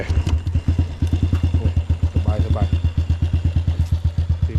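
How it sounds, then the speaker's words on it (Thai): A Honda W125 racing motorcycle engine fires up and idles with a rapid, even, throbbing putter, loud and close for the whole stretch, with a voice briefly heard over it. "เดี๋ยวติดเครื่องให้ฟังเลย เปิดกุญแจ"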